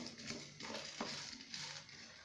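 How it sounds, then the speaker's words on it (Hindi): Whole biryani spices dry roast in a pan on very low heat, giving a faint, steady rustling sizzle with soft stirring scrapes and occasional light clinks, heard alone. "अब हम इन मसालों को एक बर्तन में डालेंगे और इनको ड्राई रोस्ट कर लेंगे"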